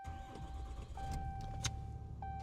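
A diesel truck engine starts up inside the cab, a brief cranking followed by a steady low running rumble, with a faint electronic tone sounding through it and no talking.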